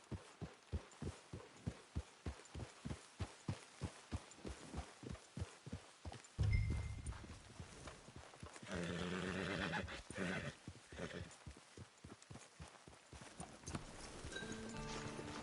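A horse in Red Dead Redemption 2 trots with a steady clip-clop of hooves, then lets out a loud whinny and snorts before the hoofbeats resume, with game music and ambience beneath.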